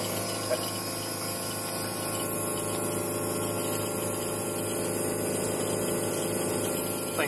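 A Toshiba VRF air conditioning unit runs steadily with a continuous pump-like whirring drone and broadband hiss, holding an even, loud level throughout with no voices.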